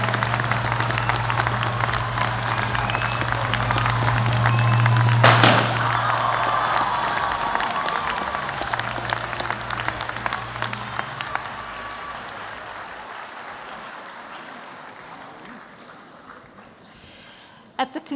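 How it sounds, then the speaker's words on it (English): Sustained applause from a large crowd at a Massey University graduation ceremony fills the room, steady at first and gradually tapering off toward the end. "Everyone, please join me in a worthy round of applause."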